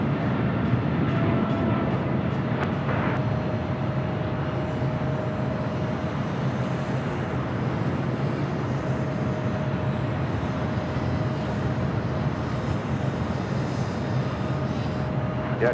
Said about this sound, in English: Star Alliance livery at 777 to 200 ER, heading to Newark, now taking off 25 right.